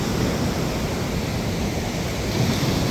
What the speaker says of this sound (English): you get these splash ups right here